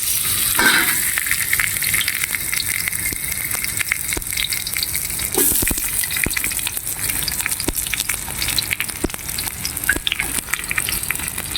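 Garlic and onions frying together in hot oil in a pan, a steady close sizzle with occasional crackles and stirring scrapes, continuous throughout with no talking.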